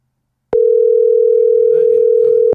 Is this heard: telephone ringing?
yes